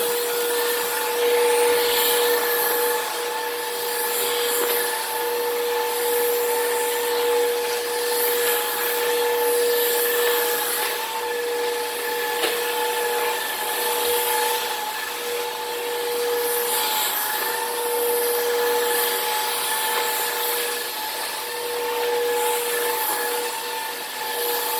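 Hoover React cordless vacuum cleaner running on a dirty floor strewn with hair and dirt, a loud, steady whine with a constant motor hum and shifting rushing air, close and continuous throughout.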